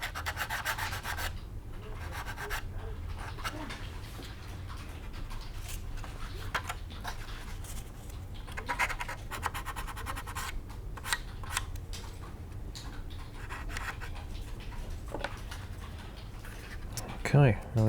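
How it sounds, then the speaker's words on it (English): A part from a Tamiya 1/48 F-4B Phantom plastic scale model kit is sanded by hand, a steady close scratchy rubbing of quick strokes that runs without pause for several seconds. "Quick sand."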